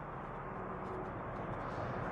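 A truck rushes past on a road near Inverarnan in the Scottish Highlands, a broad, steady roar of engine and tyre noise filling the whole short stretch.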